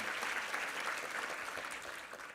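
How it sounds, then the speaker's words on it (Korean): A church congregation applauds warmly after a women's vocal ensemble performs at a Sunday service, steady clapping throughout that gradually fades toward the end. "우리 여성 중창팀 한번 힘찬 격려의 박수 부탁합니다"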